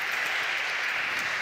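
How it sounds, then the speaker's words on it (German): A studio audience claps at a talk show, a dense steady applause of many hands at moderate volume, continuous and even throughout with no voices over it. "Das kann nur ein ironisches Klatschen sein"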